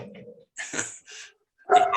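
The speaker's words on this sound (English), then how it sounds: "the dogs are upset" Dogs whimper and yip in short bursts at close range, with a louder whine and bark at the end, separated by brief silences.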